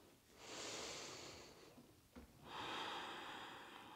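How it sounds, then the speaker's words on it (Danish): Slow, deep breaths drawn in through the nose, two long airy inhalations with a brief catch between them, close and soft in a quiet room during a guided relaxation exercise. "Tag 3 Dybe, rolige, lange, brede åndedræt."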